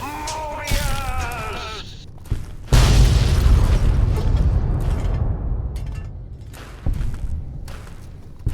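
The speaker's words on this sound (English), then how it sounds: "And it goes down just as it lived, in an epic explosion." A giant Robo-Scorpion boss in the Fallout New Vegas video game blows up with a deep booming blast and a long rumbling roar, preceded by wavering mechanical squeals and followed by further thuds as it fades.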